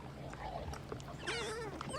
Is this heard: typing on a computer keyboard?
no